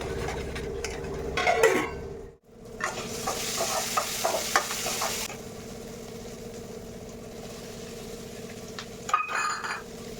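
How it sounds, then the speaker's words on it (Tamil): Onions sizzle and fry in a pan with a steady hiss, broken by occasional stirring clinks and a brief pause. "எனக்கு ஆனியன் வந்து ஃப்ரை ஆயிடுச்சு"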